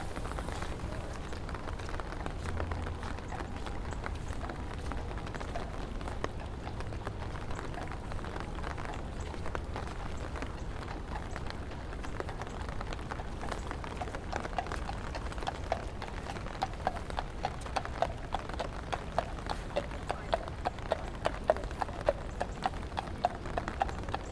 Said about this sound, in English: Gonna go quiet for a little bit so you can hear the horses clomping.